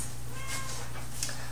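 A cat meows softly a couple of times in an indoor kitchen, faint against a steady low background hum.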